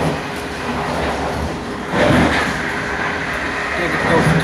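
Steady rumble of a train interior while riding toward Utrecht past Gouda, with continuous rolling noise and a slight surge near two seconds; a voice speaks over the ride.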